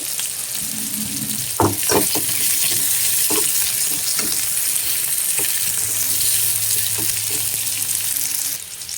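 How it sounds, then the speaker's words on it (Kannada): Onion and garlic fry steadily in a hot pan with a loud, continuous sizzle, broken by several sharp scrapes and knocks of a spoon stirring the pan, and no voices over it. "ಈರುಳ್ಳಿ ಸ್ವಲ್ಪ ಕಲರ್ ಚೇಂಜ್ ಆಗೋವರೆಗೂ ಫ್ರೈ ಮಾಡ್ಕೊಳ್ಳೋಣ."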